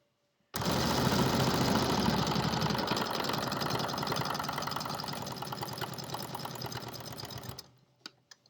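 A sewing machine stitches along the edge of a pillowcase in one steady, continuous mechanical run of about seven seconds, loud and close, slowing and stopping near the end with a couple of small clicks.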